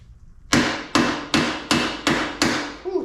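A hammer strikes hard, six times in steady succession, to drive a bearing out of a 2009 Yamaha Raptor. Each blow is loud, sharp and metallic, with a short ringing decay and no voices.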